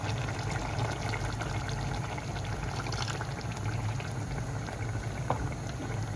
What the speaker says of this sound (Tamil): குழம்பு வந்து கொதிச்சு நல்லா எண்ணெய் மேலே சுரந்தங்கிறது பாருங்கள்